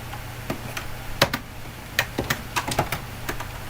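Typing on a computer keyboard during a session tinkering with old computers: scattered sharp key clicks in irregular bursts, close and clear over a low hum, with no talk.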